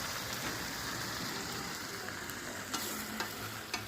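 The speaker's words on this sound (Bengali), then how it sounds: "এই যে এখন চিকেন কষা হচ্ছে।" Chicken being sautéed (kosha) in a pan over a wood fire, a steady close sizzle with a few light stirring clicks near the end, no talk.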